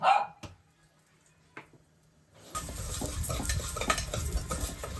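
Moong dal stirred and fried in a pan for pumpkin payasam: near silence with a few faint knocks, then a steady close sizzle with stirring scrapes for the rest.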